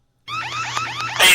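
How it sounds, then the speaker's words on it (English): An audible alarm rings at a morgue, picked up over police radio. A warbling electronic tone starts abruptly after a moment of silence and repeats in quick sweeping cycles, then ends in a loud burst of static. "Front doors are open and an audible alarm is ringing."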